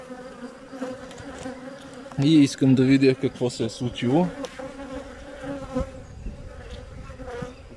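Honeybees hum steadily around an opened hive five days after being shaken onto wax foundation, a dense, continuous buzz running throughout while a voice speaks briefly in the middle.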